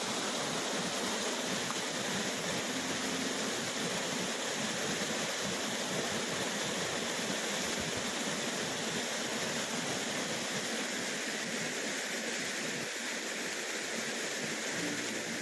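A mountain stream swollen with snowmelt near Harsil in Uttarakhand rushes in winter, a steady, dense, unbroken roar of flowing water heard close up and alone for the whole stretch.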